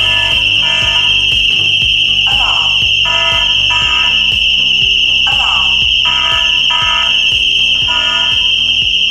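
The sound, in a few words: security alarm system ringing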